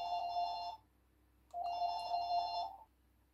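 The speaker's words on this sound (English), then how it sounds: "sorry about that, the phone rang." A telephone bell rings twice indoors, each ring a steady trilling burst under a second long, separated by a short silent gap, fairly faint against a quiet room.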